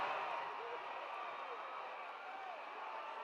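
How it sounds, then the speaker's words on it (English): A large arena crowd at a Wild Bull Curry versus Johnny Valentine wrestling match keeps up a steady, dense roar of cheering and shouting throughout, loud and unbroken, with no clear single voices standing out. "Listen to this crowd."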